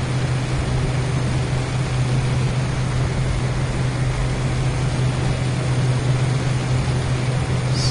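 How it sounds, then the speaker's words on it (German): In Microsoft Flight Simulator X, an airplane engine gives a continuous, even low drone with a steady hum underneath. It runs unchanged through the whole stretch with no voices. "Flugzeug dreht noch ein bisschen nach links."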